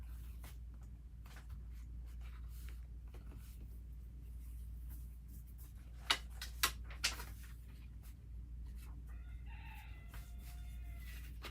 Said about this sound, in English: There's a couple of roosters